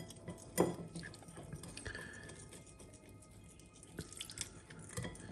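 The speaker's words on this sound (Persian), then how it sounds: "دوباره باید آب اضافه بکنیم" Water is added to a mixture being stirred with a spoon while preparing a healthy recipe, a quiet, close scene of drips and small wet squishes, with one sharper splash near the start.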